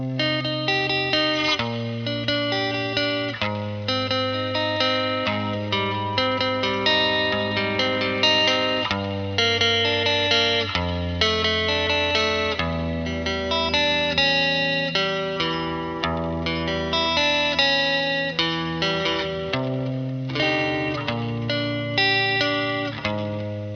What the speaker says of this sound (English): So it's compressing the reverb, which I think sounds pretty cool